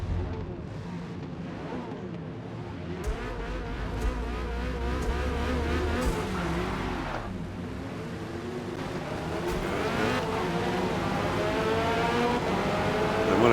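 A Corvette C8.R and other race cars start a race at Le Mans in Forza Motorsport, engines droning and revving loudly together as the pack accelerates, with gear changes and rising pitch.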